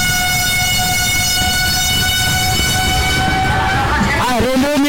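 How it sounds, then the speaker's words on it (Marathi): A train passes near a Holi festival fair in Surgana, its loud horn sounding continuously and then bending sharply in pitch as it goes by, over a rumbling, noisy background of crowd and rail. "रेल्वे निघून गेली बघा."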